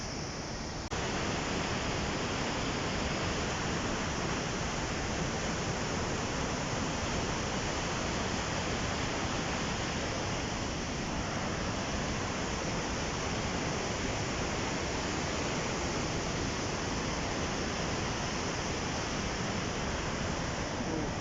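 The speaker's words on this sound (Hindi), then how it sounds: "मंदाकिनी नदी।" Mandakini river rushing below a bridge in the Kedar valley, a loud, steady roar of turbulent water filling the whole scene without pause.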